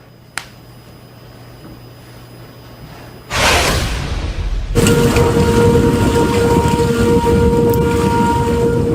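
Heavy rain and wind from deadly storms tearing across the southern United States, a faint hiss building abruptly into a loud, steady downpour roar with rumbling low end, no talk.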